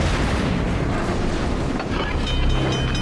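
Naval gunfire from warships during a World of Warships ranked match: dense, continuous booming salvos and rumbling blasts fill the whole stretch loudly, with no voices over them.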